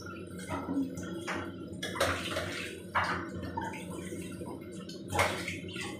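Tap water runs and splashes into a kitchen sink basin during cleaning after washing dishes, a steady stream broken by louder gushes and clatters at intervals.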